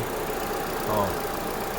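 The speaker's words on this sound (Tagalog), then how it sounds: "ito na po yung Ford EcoSport na palyado, nanginginig ang makina." A misfiring Ford EcoSport four-cylinder engine idles roughly, a steady, uneven low rumble with a slight surge partway through, heard close and alone.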